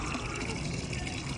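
Water runs steadily into a cup drinker for poultry chickens, a faint, continuous trickling fill heard briefly and up close.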